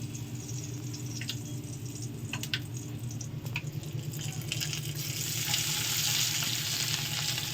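Potatoes fry in a pan with a steady spitting sizzle under a low kitchen hum, growing louder and denser toward the end, with a few light scrapes and pops.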